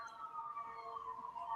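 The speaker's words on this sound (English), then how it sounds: "Is that your siren?" A distant siren wailing in a steady sustained tone through an urban background, faint and continuous with no voices over it.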